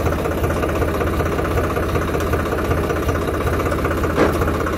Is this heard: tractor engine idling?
yes